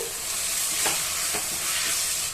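Tomatoes and onions being stirred in a pan for crab masala, a sizzling fry with a few soft scrapes of the spoon, close and steady with no talking.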